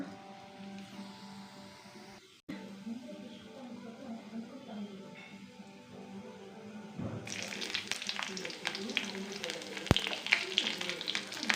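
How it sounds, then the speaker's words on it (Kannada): Mustard and cumin seeds hit hot oil for a bean sambar tempering, a soft low crackle building after a sharp drop into a bright, dense spitting sizzle that grows louder over the final seconds. "ಎಣ್ಣೆ ಕಾದಿದೆ ಸಾಸಿವೆ ಜೀರಿಗೆ ಹಾಕೋಣ"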